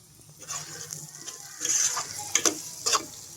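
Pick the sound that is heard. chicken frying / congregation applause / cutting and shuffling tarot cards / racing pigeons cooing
chicken frying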